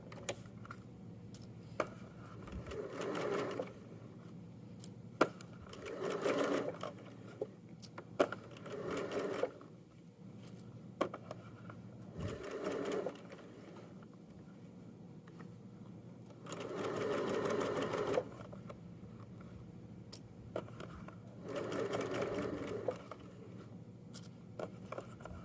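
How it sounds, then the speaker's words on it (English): A sewing machine stitching the seam of a jogger leg band, running in several short bursts of rapid needle chatter with quiet pauses and small handling clicks between them. "I want my seam allowance to be open as I sew"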